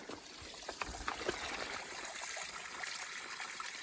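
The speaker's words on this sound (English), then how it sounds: "It's a river!" Water of a river on the Appalachian Trail, after a thunderstorm, rushes and trickles steadily over wet rocks, a soft continuous wash with small splashy accents close by.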